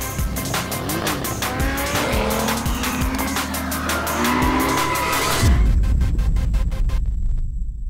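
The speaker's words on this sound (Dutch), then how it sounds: "En ik ga gewoon zo onderstuurd met rokende banden" A Porsche Targa 4 GTS understeering with smoking tyres, loud continuous tyre squeal over a roaring engine, close and sustained before the squeal cuts off near the end.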